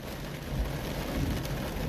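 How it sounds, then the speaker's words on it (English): Heavy rain pours steadily over Port Adelaide's Birkenhead Bridge, a dense continuous hiss with low rumbling beneath, heard alone without voices. "Listening and watching the rain over Port Adelaide's Birkenhead Bridge here."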